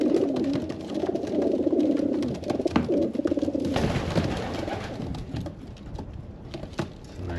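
Racing pigeons coo steadily in a loft, a low layered murmur of many birds close by, with scattered flutters, taps and light patter through the scene.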